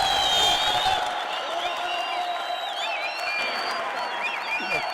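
An audience applauds and cheers as a guest named Shanbe Rozkar is called up to the stage, loud continuous clapping with scattered whoops and crowd noise throughout.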